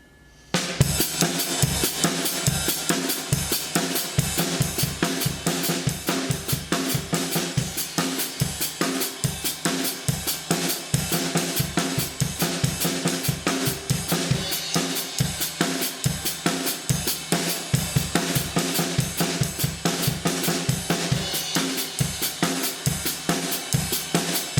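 A drum kit plays an eighth-note paradiddle independence exercise, a steady, dense pattern of close, loud hits that runs continuously with no talking.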